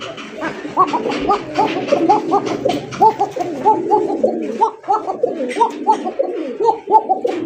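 A Bashiraj Koka pigeon coos in a steady run of deep, repeated calls, loud and very close, with a rhythmic bubbling pattern throughout.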